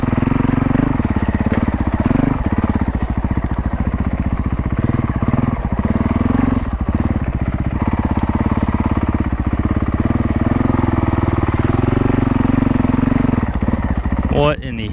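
A Honda CRF450L dirt bike churning through a swamp, its engine loud and close with a steady throbbing drone and rises in revs, while a rider talks over it.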